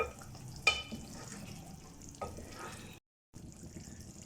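Black pepper chicken stirred in a pan with spice powder: faint scraping of the spoon with a soft sizzle beneath, a couple of brief clinks, and a short silent gap near the end.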